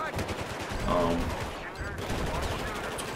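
H52 gunfire in Battlefield 4, a dense sustained burst of rapid shots with loud reverberant game noise throughout, peaking about a second in.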